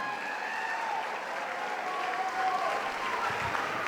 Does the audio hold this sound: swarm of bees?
no